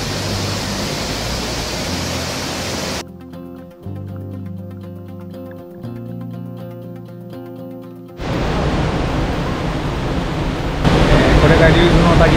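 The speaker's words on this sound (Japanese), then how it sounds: "これが竜頭の滝です。" Ryuzu Falls in Nikko, Japan, a cascade streaming down a rocky slope, gives a constant broadband rushing roar, cut off in the middle by a stretch of music before the water noise returns louder.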